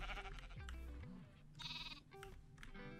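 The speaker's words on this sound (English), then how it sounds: "Baby sheep!" A baby sheep in the Minecraft video game gives a short, high bleat among other in-game sounds and tones, fairly faint and with no talk over it.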